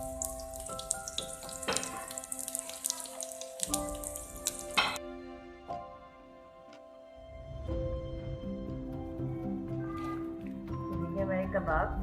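Shami kebabs, chicken ones, fry on a gently heated pan with a steady low sizzle that runs under voices and other kitchen noises, fading briefly midway before returning.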